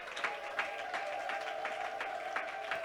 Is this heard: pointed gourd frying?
no